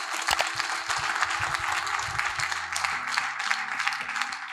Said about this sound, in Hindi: मैं चाहता हूं एक जोरदार तालियां हमारे सारे किसानों के लिए होनी चाहिए